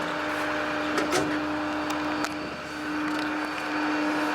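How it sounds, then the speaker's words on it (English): A DC hydraulic pump runs on the pedestal of a 2010 Ford F550 4X4 Altec AT37G bucket truck, giving a steady electric motor hum at a constant pitch with a few short clicks and knocks over it. "We have a start stop DC pump here in our pedestal"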